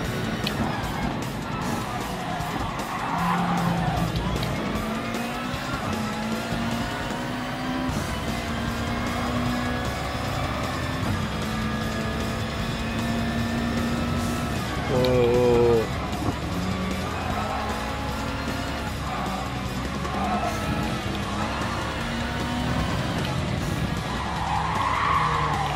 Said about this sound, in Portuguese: um bocadinho de drift aqui